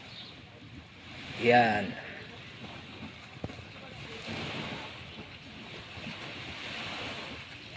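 Wind and sea-wave noise roar steadily around a speedboat ride out at sea in the Philippines, with a brief louder gust early on and a person talking faintly over it.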